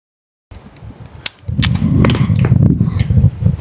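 A BinTac T50 Extreme semi-auto .50 caliber PCP airgun fires a sharp, loud report. A rumbling, noisy tail and mechanical clatter follow close by.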